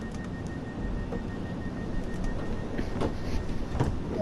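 A train pulls away from a platform in the video game Train Sim World 2020, giving a low steady rumble of rolling wheels and motors with faint clicks and squeaks, close and moderately loud, with no talk.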